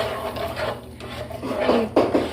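Pasta being stirred with milk in a pan, the spoon scraping and knocking against the metal in irregular strokes, close and fairly clear, with a few louder clinks near the end.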